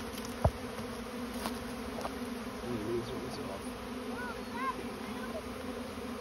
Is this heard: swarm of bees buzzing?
yes